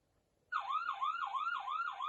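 Wailing emergency-vehicle siren alarm from a crossroad control circuit on a BASYS 3 board, starting abruptly after a brief silence and sweeping up and down in steady, fast cycles, loud and alone.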